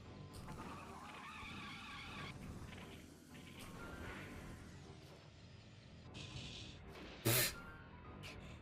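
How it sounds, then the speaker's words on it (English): Tyre squeals from the racing video game Speed Power Gunbike, with repeated high whining skids over a busy engine and crash backdrop, then a sharp loud impact near the end, all fairly quiet overall. "you're going to listen to tires squealing constantly"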